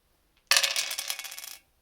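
A handful of dice tumble out of a rune bag onto a surface, a sudden bright clatter of many small pieces rattling and settling over about a second, close and fairly loud, then silence.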